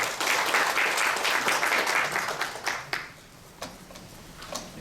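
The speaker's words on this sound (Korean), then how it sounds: "다시 한번 큰 박수 부탁드립니다" An audience at an industry presentation by Incheon Airport, Korean Air and Jeju Air officials gives a round of applause, dense clapping that thins out after a few seconds into scattered claps.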